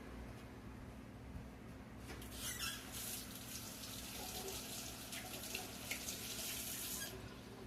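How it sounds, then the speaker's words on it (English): Tap water runs steadily into a kitchen sink while hands are rinsed beneath it, a constant close wash of splashing that swells slightly in places, with no talking. "Let me wash my hands."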